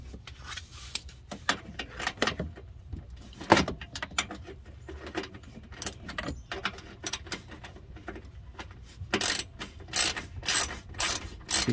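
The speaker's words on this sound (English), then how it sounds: "We have a total of 4 bolts to remove this part right here." A hand ratchet loosening bolts under a 2012 Dodge Charger R/T V8 during an oil change, with quick bursts of close, sharp clicking separated by brief pauses and small metal clinks.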